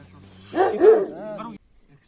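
A Kangal dog gives a single close, deep bark that trails into a short whining yelp, then stops.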